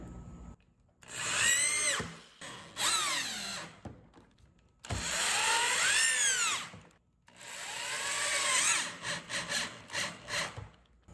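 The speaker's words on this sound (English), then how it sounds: "I drilled a large hole to sink in the fastener." A power drill bores a large hole in wood for sinking a fastener while modifying a furniture base, three long whining bursts with rising and falling pitch separated by short pauses, close and loud.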